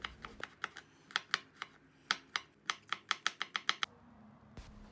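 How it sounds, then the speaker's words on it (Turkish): A knife finely chops garlic on a cutting board: a quick series of sharp, close taps in irregular bursts, speeding into a rapid run before stopping, then one last isolated knock. "Sarımsağı da küçük küçük doğruyorum."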